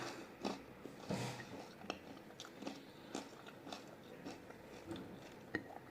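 Close, crunchy bites and chewing on a kebab with crispy bread, meat and sauce, a series of sharp crunches followed by softer repeated chewing at a steady pace, with no talking.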